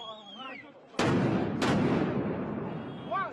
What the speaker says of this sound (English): But stun grenades going off one more.